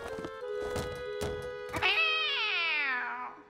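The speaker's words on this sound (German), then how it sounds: "Waren also nur Kätzchen." Cartoon kittens meow in an animated Halloween episode of Tayo the Little Bus: a few soft thumps and short squeaks, then one long, loud, drawn-out meow that bends downward in pitch.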